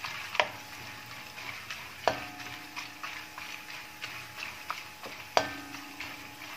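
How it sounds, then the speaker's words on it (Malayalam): Ginger pieces frying in oil for an Onam sadhya inji curry, giving a soft steady sizzle broken by a few sharp utensil knocks against the pan, fairly faint and close. "ഒരു മിനിറ്റിനകത്ത് ഇഞ്ചി മൂത്ത് വരും. ആ സൗണ്ട് കേൾപ്പിച്ചേരാവേ."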